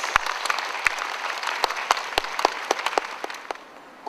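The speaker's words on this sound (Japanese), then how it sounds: "皆様大きな拍手をお願いいたします。" Audience applause at the grand opening ceremony of a forest therapy site in Myoko, Japan, following a ribbon cutting: a dense outdoor clapping bed with sharp individual claps standing out, fading slightly toward the end.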